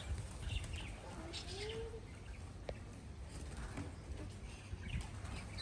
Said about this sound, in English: Got the birds out having a fly.